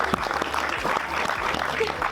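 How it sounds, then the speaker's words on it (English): Applause for an angler at a match fishing final prize-giving, a steady patter of many hands clapping outdoors, moderately close, with faint voices beneath. "Go on, give him another round of applause."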